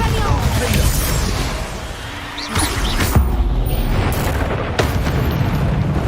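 Bombarda spell explosions in the Hogwarts Legacy video game, deep booming blasts and crashing bursts amid constant combat noise, loud and close, with a voice speaking over them.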